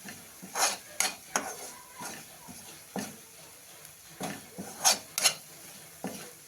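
Spice masala stir-fried in oil in a pan for Maharashtrian katachi amti, with a spoon or spatula scraping and clinking against metal in uneven bursts over a faint sizzle. Close and moderately loud, with no talk.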